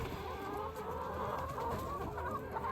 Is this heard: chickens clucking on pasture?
yes